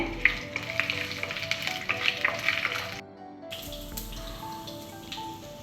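Curry leaves, dried red chilies and cumin seeds hitting hot oil for tempering, a close, steady crackling sizzle with scattered pops, briefly dipping quiet before the frying hiss resumes, no talking.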